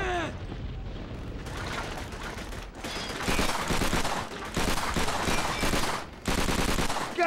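Sustained machine gun fire in Call of Duty: Finest Hour on PS2, loud rattling bursts with short pauses between volleys, dense and close amid the battle noise of the game.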